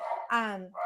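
A dog barks inside a house, a single drawn-out bark set between bursts of a person talking nearby.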